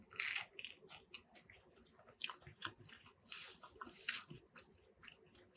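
Close, crisp crunching of a fried panzerotti being bitten and chewed, irregular bursts of crackly bites with quieter mouth squishes between, no talk.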